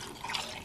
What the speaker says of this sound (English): I have my mixture right here. I'm gonna pour right over it.